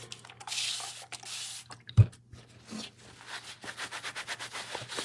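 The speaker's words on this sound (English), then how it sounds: "I just sprayed some water on there so I don't get dust everywhere" A few quick hissing sprays of water from a nearby spray bottle onto a sanded craft surface, separated by short pauses, with soft rubbing and dripping sounds in between.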